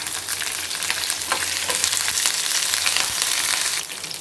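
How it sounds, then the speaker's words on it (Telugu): Cashews and curry leaves fry in hot oil for lemon pulihora, giving a steady close sizzle with faint stirring, no voices. "ఈ టైంలో జీడిపప్పులు కొద్దిగా వేసుకుందాము. కొంచెంసేపు అట్లా వేపుకుంటాము."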